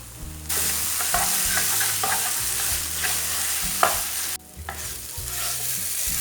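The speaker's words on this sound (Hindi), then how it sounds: "आलू और प्याज को 3-4 मिनट तक पका लेंगे" Potatoes and onions fry in a pan with a steady close sizzle, broken by scraping stirs from a spoon. A brief gap sits near the middle before the hiss resumes, and no voices are present.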